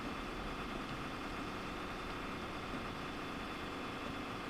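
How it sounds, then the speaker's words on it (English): Steady diesel engine drone of a five-car Super Voyager train in the Train Sim game on the North Wales Coast route from Crewe to Holyhead, running continuously at a constant level, slightly rough, with no talk. "Engine sounds like it's choking."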